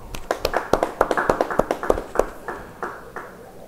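A church congregation claps at a Bible study service, a brisk run of sharp, close hand claps that starts dense and evenly paced, then thins out and fades over a few seconds.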